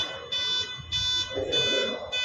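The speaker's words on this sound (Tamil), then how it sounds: "இப்போ பார்த்தீங்கன்னா வண்டி ஆஃபில் இருக்குது, அலாரம் அடிக்கும்." Anti-theft alarm on a Revolt electric bike switched off in a showroom, sounding in loud repeated wailing bursts with short gaps, a steady pulsing pattern close by.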